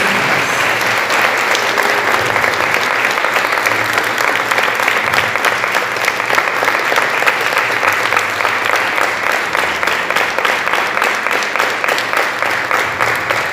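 A church congregation claps in praise, a loud sustained wash of many hands beating in a fairly steady rhythm for the whole stretch, with faint voices beneath.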